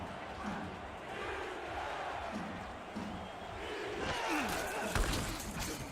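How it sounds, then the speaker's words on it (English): A loud Fort Lauderdale football stadium crowd roars steadily throughout, rising toward the end with chanting for the defense and a few sharp bangs near the close. "this Fort Lauderdale crowd getting loud and chanting defense"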